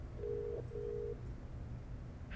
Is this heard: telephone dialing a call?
yes